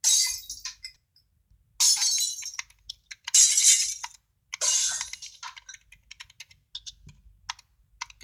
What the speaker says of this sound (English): Let's hear the broken glass.